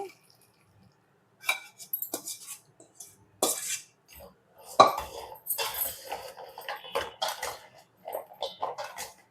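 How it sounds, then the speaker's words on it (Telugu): Gorumitilu sweets being mixed with freshly made sugar syrup in a steel vessel, giving intermittent clinks and scrapes of a spoon against metal, close and fairly soft, with quiet gaps between strokes. "పాకం మొత్తం కలిసేటట్టు బాగా కలుపుకోవాలి"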